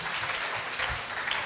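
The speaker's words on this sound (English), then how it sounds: "Clap for that to Jesus." A church congregation clapping together in a brief, busy wash of hands that stays even and moderately soft throughout.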